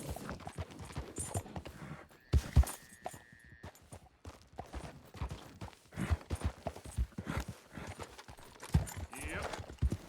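A horse's hooves clatter in Red Dead Redemption 2, an uneven run of clip-clopping beats with someone talking over them and a short whistle-like tone early on.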